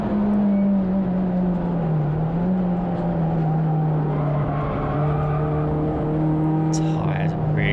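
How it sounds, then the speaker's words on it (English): Racing saloon car lapping Thruxton circuit in a CSCC Tin Tops race, worn tyres squealing through corners over a steady, loud engine drone that persists throughout, with a brief higher squeal near the end. "Tyres were really squealing."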